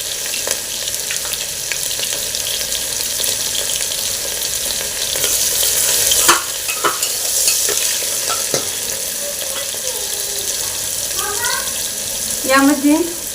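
Finely chopped onion and green chilies fry in a pan for spicy whole masoor pulao, a steady loud sizzle broken by occasional stirring knocks, with brief voices near the end.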